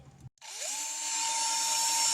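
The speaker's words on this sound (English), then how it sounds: "And I'll drill a hole for that." Power drill boring a hole while mounting power station hardware, a short pause, then the motor spins up to a steady, loud high-pitched whine that holds for about two seconds, with no talking.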